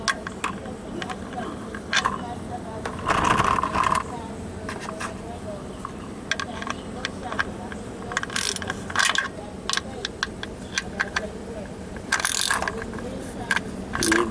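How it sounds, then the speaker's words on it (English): Ratchet clicking in bursts while turning an oil drain plug during a car oil change, close and fairly loud, with someone talking between the bursts. "Get your ratchet."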